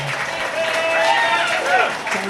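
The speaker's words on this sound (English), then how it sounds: "Standing ovation here at Ninfa's from the crowd." Crowd applause at Ninfa's, a standing ovation with steady massed clapping and cheering voices, loud and sustained throughout without a break.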